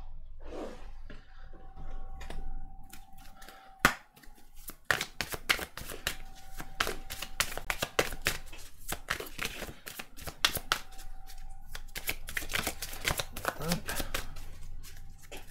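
Tarot cards shuffled by hand in quick, crisp riffling bursts, close and fairly loud, with a brief spoken interjection and a faint steady hum underneath.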